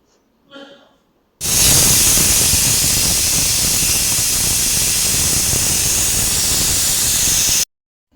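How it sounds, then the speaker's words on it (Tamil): A brief faint sound, then a pressure cooker whistle releases a loud, steady hiss of escaping steam that holds for several seconds before stopping abruptly. "குக்கரை மூடி நல்லா 1 விசில் நல்லா விட்டு எடுத்துக்கலாம்"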